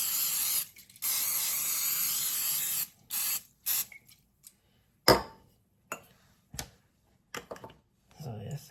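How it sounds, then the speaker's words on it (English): Olive oil sprays from a bottle onto shrimp burgers on a grill in several short hissing bursts, with a longer spray at the start, followed by scattered soft clicks and knocks. "now I'm going to use some olive oil"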